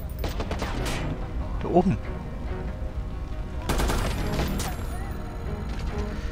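Rapid bursts of gunfire from the video game Watch Dogs, a hotel ambush shootout, crackling steadily through the clip with louder volleys near the middle and later, while someone speaks briefly over it.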